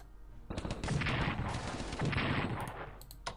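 A naval bombardment in the WWII strategy game Strategic Command erupts in a burst of booming, crackling impacts and rapid fire. It begins abruptly, rumbles and rattles for nearly three seconds, then fades with a few scattered pops.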